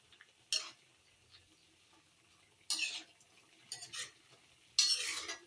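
Crushed ginger and garlic are stirred in a pan in four short, separate scraping bursts with quiet gaps between them, and the last burst is the longest.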